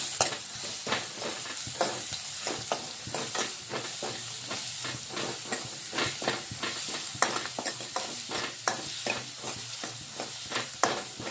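Ginger garlic paste fries with onions in a pan for spicy broccoli curry, giving a steady sizzling hiss. Frequent scraping stirs and clinks of a spoon break through it at close range.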